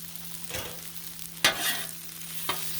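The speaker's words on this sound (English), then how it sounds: "Mix that in with the stir fry sauce." A turkey stir fry cooks on a Blackstone griddle: a faint steady sizzle broken by three short bursts of scraping or tossing.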